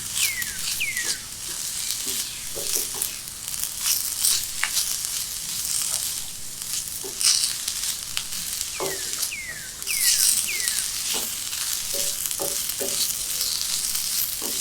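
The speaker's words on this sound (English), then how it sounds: "Just a little saute." Green peas or paneer sautéing briefly in a pan with a little oil for a healthier sweet potato starter, a steady close sizzle and frying crackle with occasional scrape-and-stir sounds, no talking.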